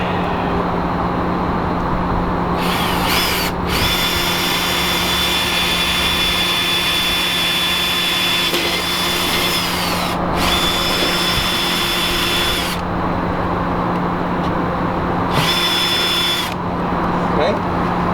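A power drill with a 5/32 bit whines steadily at close range, stopping briefly a few times before spinning up again, with a constant machine hum beneath.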